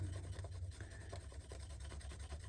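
A hand rubs over paper laid on a guitar body to trace the cavities, making soft, close scratchy strokes in a quick repeating rhythm with no talk.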